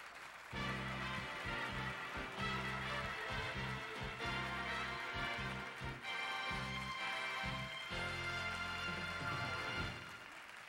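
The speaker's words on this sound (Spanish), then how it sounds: "Un fuerte aplauso por este reconocimiento" Steady audience applause at the Miss Sudamerica 1996 beauty pageant, a continuous wash of clapping from a large crowd lasting about ten seconds before fading out.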